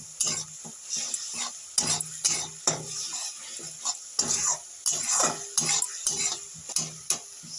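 Cabbage with turmeric being stirred in a pan, short repeated scrapes and utensil knocks against metal in an uneven rhythm over a faint sizzle, close up and fairly quiet.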